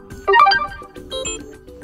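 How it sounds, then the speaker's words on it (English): A short default notification tone on a TCL 20 5G phone: a bright chiming melodic phrase of a few quick notes, a brief pause, then a softer second chime, heard alone with no talking. "Here we can also change the default notification ringtone."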